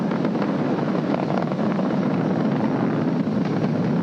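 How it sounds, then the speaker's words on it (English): Falcon 9 rocket engines throttling down during ascent before maximum dynamic pressure, a steady, loud, broadband roar with no break, heard alone without voices. "We're throttling down to get ready for the period of maximum dynamic pressure."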